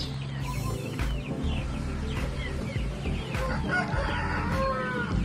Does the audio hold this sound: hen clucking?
yes